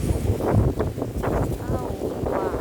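Gusting wind buffets a microphone outdoors in an autumn garden where calendula and marigold seeds are being collected, a steady low rumble with bursts of speech over it.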